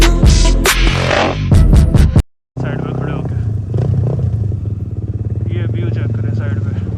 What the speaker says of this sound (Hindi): पहला गियर करता हूँ तो हीट होती है, दूसरा गियर करता हूँ स्पीड कम हो जाती है, स्पीड कम होती है तो बाइक फिर हीट होता है।